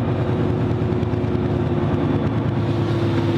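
A Volvo engine heard from inside a well-insulated cab hums steadily as it pulls away again, a muffled, continuous drone with no voices.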